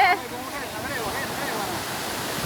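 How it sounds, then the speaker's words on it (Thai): Strong sea waves wash onto a beach in a steady loud rush, with heavy surf roar and wind filling the whole short stretch and no clear voices over it. "น้ำทะเลแรงมากพี่น้อง"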